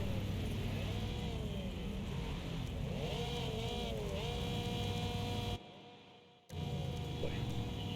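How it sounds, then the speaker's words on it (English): Race car engines in the video game Wreckfest rev repeatedly at close range on the starting grid, their pitch rising and falling in overlapping whines, with a brief dropout near the end. "Revving of the engines already."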